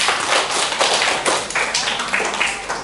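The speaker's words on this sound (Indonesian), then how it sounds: "Untuk mengapresiasinya beri tepuk tangan untuk kelas 11 IP" A secondary school class claps together in a classroom, a dense burst of many hands slapping irregularly and fairly close, with no talk over it.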